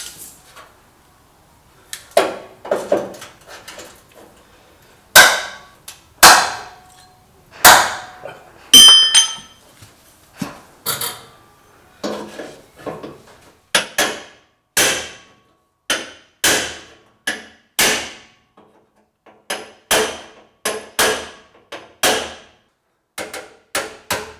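Repeated hammer blows strike the front metal panel of a Mk1 Volkswagen Golf during panel repair, sharp ringing metallic impacts in irregular bursts, loud and close, with no talking.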